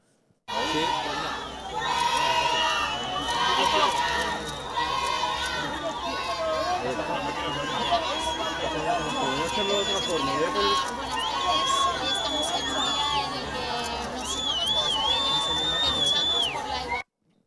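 A crowd of radical feminists shouts insults at an 8M march, a dense, continuous roar of overlapping voices and chants that stays loud throughout.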